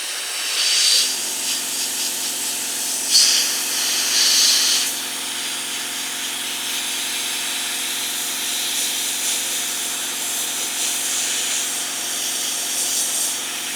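A mini sandblaster with extra compressed air opened, used on an exhaust manifold and valve cover, gives a continuous airy hiss with a steady hum beneath and faint uneven bursts as the flow sputters.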